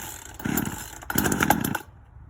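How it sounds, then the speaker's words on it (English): Two quick pull-start bursts on a chainsaw with the choke out, each a short rasping sputter close by, the second slightly longer, before the sound cuts to quiet. "Once you hear it pop, the saw is ready to go."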